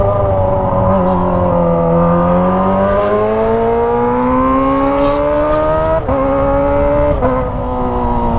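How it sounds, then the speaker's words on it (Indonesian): Kawasaki ZX25R motorcycle with a Toce aftermarket exhaust, a loud, close, high-pitched engine howl whose pitch climbs steadily while revving, then drops briefly at two quick shift points before pulling up again, with no talking. "suaranya emang bacot banget ini knalpot guys."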